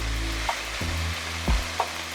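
Onions and celery sizzle steadily in a pan for a spaghetti sauce, a constant close frying hiss with a few soft stirring clicks and no voices.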